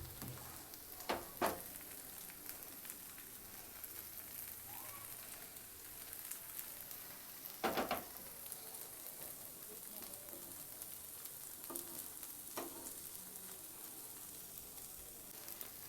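Rava dosa frying in plenty of oil or ghee on a hot pan gives off a faint, steady sizzle and crackle, broken now and then by sharper pops and brief clatters of handling nearby.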